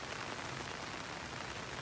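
A steady, even hiss of light rain falls continuously on a farm in Pampanga after a night of heavy rain, with no voices.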